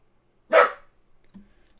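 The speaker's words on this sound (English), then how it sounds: "He's barking at the FedEx guy." A single sharp bark from a dog reacting to a FedEx delivery man, close and clear against a quiet room, followed by a faint low muffled sound.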